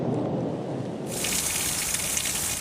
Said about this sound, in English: The lightning and thunder has intensified by the minute, really, and the rain has just been getting heavier and heavier.